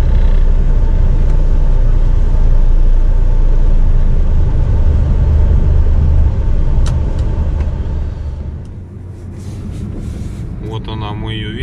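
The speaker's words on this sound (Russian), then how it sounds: "Сейчас я здесь машину поставлю" A car engine idles and rumbles loudly and steadily at close range while the car is being parked, then drops in level toward the end, leaving quieter background noise with a few faint clicks.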